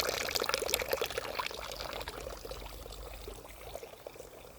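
Water pours from a small mountain drinking fountain in the Alps, a steady close splashing trickle that fades slightly toward the end.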